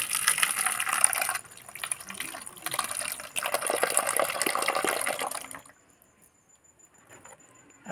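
Water is poured into a mix of soil and cow dung, giving a steady splashing gush that pauses and resumes several times before stopping, leaving near silence.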